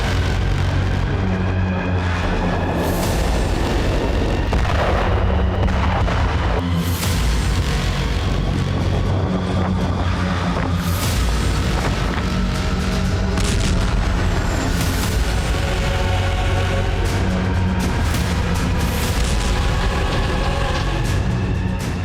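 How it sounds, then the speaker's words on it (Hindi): North Korean artillery firing in Luhansk during the Russia-Ukraine war gives repeated heavy booms. They sit over a constant, dense rumble that stays loud and even throughout. "नॉर्थ कोरिया की आर्टिलरी से ही लुहांस्क से गोलीबारी जारी है।"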